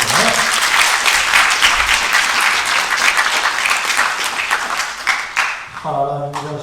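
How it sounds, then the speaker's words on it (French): An audience at a Tokyo Game Show 2023 influencer panel breaks into loud, sustained applause that thins and fades near the end, where a voice briefly begins speaking over the last scattered claps. "Applaudissements pour le mot déjà, s'il vous plaît."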